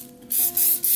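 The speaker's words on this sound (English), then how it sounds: "it said to like spray the tops of them lightly" Avocado oil spray misted lightly over food in a home kitchen, three short hissing bursts from a spray can, close and fairly loud, with a faint steady hum underneath.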